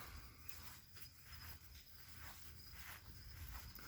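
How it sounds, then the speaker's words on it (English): Crickets chirp steadily at night in calm, quiet outdoor surroundings, a soft continuous high trill with faint low rumble beneath and no talking. "You can hear the crickets in the background."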